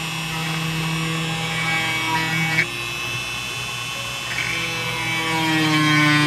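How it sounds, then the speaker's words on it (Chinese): A high-speed drill bores a screw hole during a home build of a laser engraver from a salvaged CD burner. It gives off a close, steady, tonal whine that holds for the whole stretch, with slight shifts in pitch and no talking. "我们使用我们的这个高速钻"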